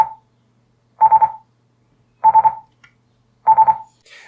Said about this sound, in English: And then you'll hear initially that launch mode low throttle.